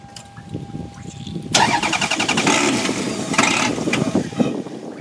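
Offroad beater car with a fresh air filter cranking over and catching, then settling into a rough, uneven mid-range idle with a few small revs, close by, voices talking underneath.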